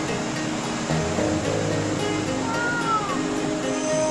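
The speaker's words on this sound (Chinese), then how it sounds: "这个就是左边，那是第一层的瀑布，有没有很大？" Rushing roar of the multi-tiered Yunlong waterfall on the Batongguan Trail in Taiwan, a steady broadband wash of falling water close by, with faint voices underneath.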